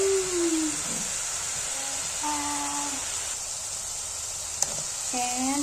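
Tomatoes fry in a pan with pork, giving a steady, even sizzle that runs throughout, with faint voices murmuring in the background.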